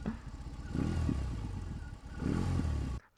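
A 2024 BMW R 18 Roctane motorcycle engine cranks and catches, settling into a rough, lumpy idle with two surges of revving before cutting off abruptly.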